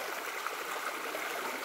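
Clean stream water runs and splashes over stones along a coffee route in Chiapas, a steady, close, bright rushing and gurgling that fills the whole stretch without any voices.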